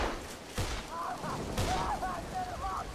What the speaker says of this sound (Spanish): Hay disparos por ahí arriba